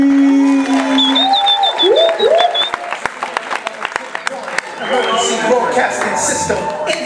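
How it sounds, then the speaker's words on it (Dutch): Audience at the ExpressYourSelf finale greets Henry with scattered claps over fading musical tones, swelling into fuller applause and crowd noise toward the end. "Mag ik een applaus voor Henry?"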